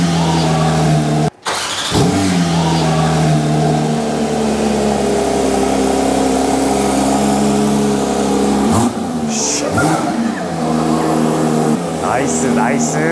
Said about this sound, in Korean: 다 귀막을 준비해. NA의 환상적인 엔진 노트를.